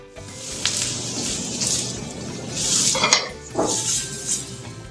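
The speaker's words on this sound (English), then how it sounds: "We're just gonna stir it constantly for about another minute or so." Pork and softened onions stirred in a pan for sweet and sour pork: a spoon clinks and scrapes against the pan in irregular strokes over a soft hiss, close by, with no talking.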